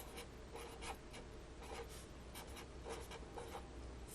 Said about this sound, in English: So I'm going to write, Angie has